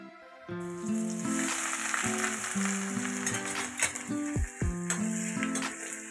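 Vigorous sizzling of chopped garlic and ginger dropped into hot oil, a dense crackling hiss with stirring clatter over background music.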